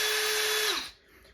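Small handheld electric screwdriver running with a steady high whine for most of a second, then winding down and stopping, followed by a short quiet gap and a brief click at the end.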